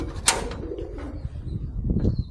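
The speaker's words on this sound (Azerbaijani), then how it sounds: "Göyərçinlər vəhşi göyərçin oxşayır." Pigeons in a home aviary built from stacked stones, several cooing birds heard at close range with soft low calls over a busy background murmur and a brief sharp sound near the start.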